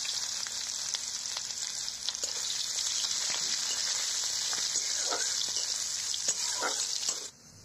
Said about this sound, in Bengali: আর একটা তেজপাতা আর একটা পেঁয়াজ কুচি দিয়ে একটু নাড়াচাড়া করে নেব।